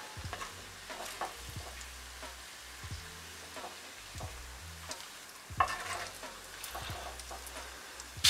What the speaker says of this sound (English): And now we'll brown the beef